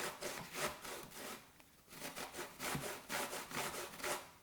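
Zucchini is shredded on a sharp box grater in a home kitchen, making a series of rough, rasping strokes in a steady back-and-forth rhythm, close and moderately quiet.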